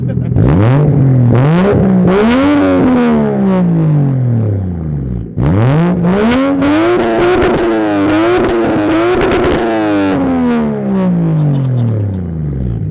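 A loud Toyota Chaser's 450 hp 1JZ engine revs repeatedly through the exhaust, pitch climbing and falling in long rising sweeps, close and continuous with no talking.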